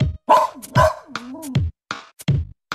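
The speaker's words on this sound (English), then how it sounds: "had a dog, and Bingo was his name." A dog barks in the children's song about the farmer's dog Bingo, a series of close, sharp barks and yips in irregular bursts separated by short silences.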